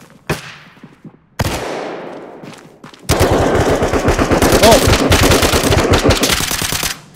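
Gunfire in the tactical shooter game Ready Or Not: a couple of sharp isolated shots, then a sustained loud burst of rapid automatic fire rattling on for several seconds.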